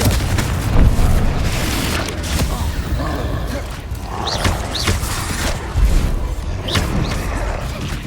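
Confringo fire-blast spells in Hogwarts Legacy go off in repeated deep booms and crackling bursts among other spell effects during a duel, several impacts scattered across the stretch.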